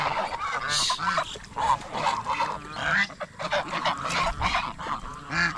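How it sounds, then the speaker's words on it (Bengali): A flock of ducks near standing water in a rural border area, calling loudly and continuously with overlapping nasal honks and quacks, close by. "চারপাশে হাঁস ডাকাডাকি করতেছে"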